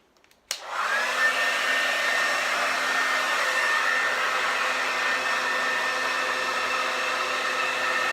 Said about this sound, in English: I'm just going to start blow drying my hair